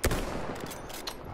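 A sniper rifle shot fires in the World War I shooter Battlefield 1, a sharp, loud blast at the very start followed by a rumbling tail of distant battlefield gunfire and noise.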